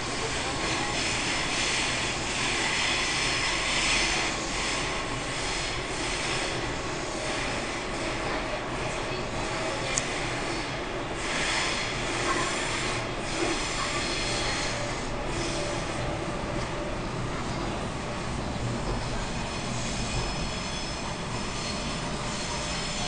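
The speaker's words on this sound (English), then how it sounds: "As the train arrives into Circuit Quay" A Sydney train pulls into Circular Quay station, its wheels rumbling and squealing along the rails in a loud, sustained roar with shifting screeches, heard close from on board.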